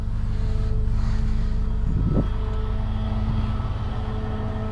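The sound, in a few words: car engine revving as driver presses gas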